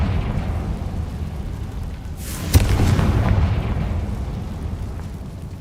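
A Confringo blast spell explodes in Hogwarts Legacy, a sharp crack and deep boom rising out of a rumbling game ambience, then a long rolling decay that stays loud for several seconds.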